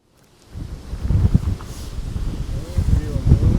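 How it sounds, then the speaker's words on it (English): Strong wind buffets the microphone in low, rumbling gusts that swell and surge continuously, loud and close. "it's so windy"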